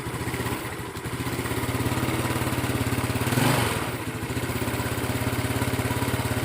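A motorcycle engine fitted with a new groundstrap, running steadily near the listener with a pulsing mechanical beat, then rising briefly in one throttle blip before settling back to idle.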